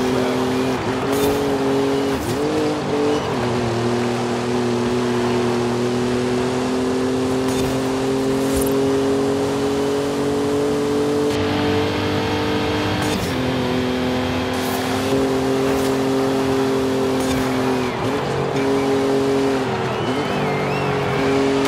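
A car engine runs flat out in sixth gear in Forza Horizon 5, a loud, steady high drone holding pitch with brief dips and recoveries, continuous and close throughout with no talk over it.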